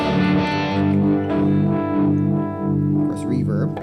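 Sustained electric guitar chords played through a Univibe effect pedal, pulsing with a swirling, throbbing modulation, played steadily and fairly loud with a slow wavering rhythm.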